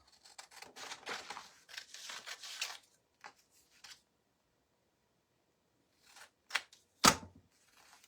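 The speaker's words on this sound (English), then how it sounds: "So I'm just going to cut a piece the same" Scissors cut scrapbook paper for a Christmas ornament made from a Dollar Tree wood frame, a few quiet close snipping bursts with pauses, then two sharper clicks near the end.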